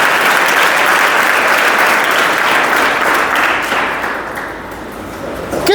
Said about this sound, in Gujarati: તાળી પાડવી તો પાડી શકાય